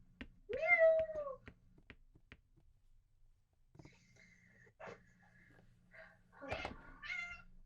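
A pet cat named Harrowheart, an overweight female, gives a clear meow near the start, followed by softer chirps, small vocal sounds and scattered taps in a quiet room.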